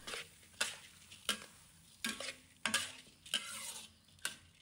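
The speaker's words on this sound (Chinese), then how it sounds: "用锅铲快速翻炒，让每一粒糯米都均匀裹上油脂，与其他食材充分混合" Glutinous rice and pork belly stir-fried in a wok with a spatula: a steady sizzle broken by sharp, regular scraping strokes about every second, close and fairly loud, with no talk.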